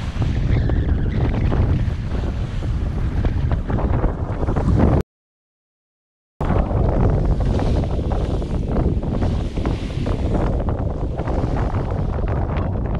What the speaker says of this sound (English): So the winds continue to veer more southwesterly and build throughout the afternoon